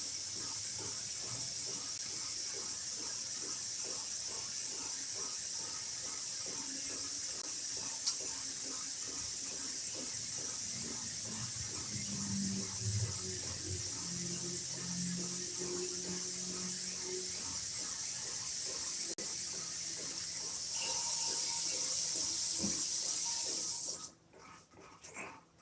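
Tap water runs steadily and softly into a pet's water dish, a continuous hiss and trickle that keeps going for a long stretch, then cuts off near the end with a clatter, while faint sounds move in the background.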